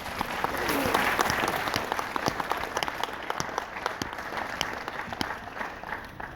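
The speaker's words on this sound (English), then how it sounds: "I think that deserves a round of applause, ladies and gentlemen." A wedding crowd applauds warmly, the clapping swelling early and then fading slightly while staying steady throughout.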